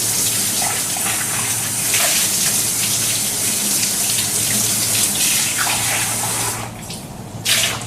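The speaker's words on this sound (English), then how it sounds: "And then rinse with really hot water." Hot water runs steadily from a tap, rinsing washed containers and saucepans in a commercial kitchen sink, a loud continuous gush with brief changes in splash as items move under the stream.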